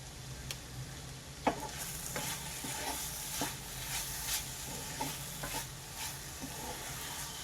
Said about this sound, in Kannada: ಹಸಿ ಕರಿಬೇವಿನ ಸೊಪ್ಪನ್ನು ಹಾಕೋತಾ ಇದ್ದೀನಿ. ಚೆನ್ನಾಗಿ ಮಿಕ್ಸ್ ಮಾಡಿ